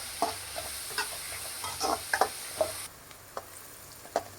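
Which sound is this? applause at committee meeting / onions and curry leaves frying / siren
onions and curry leaves frying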